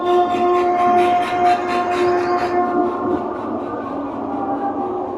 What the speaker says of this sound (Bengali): ধৌলি এক্সপ্রেস এখন ছাড়লো শালিমার থেকে